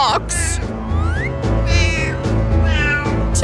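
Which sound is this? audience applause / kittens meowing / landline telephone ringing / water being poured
kittens meowing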